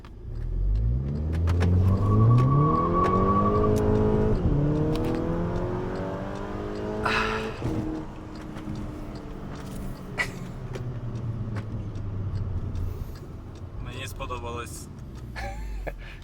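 A Volkswagen Golf 6 GTI engine revs up in sport mode, climbing in pitch, then drops as tires squeal briefly in wheelspin; the engine idles and revs again with some clunks.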